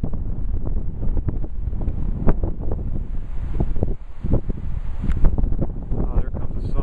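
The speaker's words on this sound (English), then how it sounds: "Windy as heck out." Strong wind buffets the microphone outdoors on a cold day, a continuous low rumbling roar with gusty surges throughout, loud and close.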